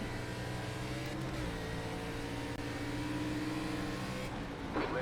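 Race cars in the ARCA racing game at Twin Ring Motegi West drone steadily at close range, their engine notes overlapping and shifting pitch as cars pass, with no talk over the sound.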